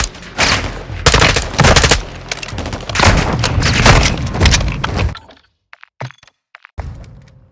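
Sustained heavy gunfire in Call of Duty: Modern Warfare II hammers continuously for about five seconds, loud and close with dense rapid shots and impacts. It then drops to near silence broken by a few isolated thuds and clicks.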